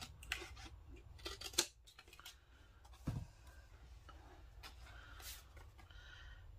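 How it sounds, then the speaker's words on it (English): Scissors snip through a journaling card in a few quick, close cuts, with sharp bursts around the one-to-two-second mark and a short clip again near three seconds; otherwise the room is quiet. "Cut right under those letters."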